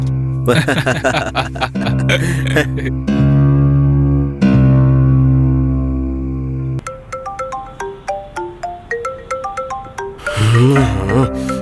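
An electronic phone ringtone plays a melodic tune with sustained tones and rapid repeating notes, loud and close, without any talking.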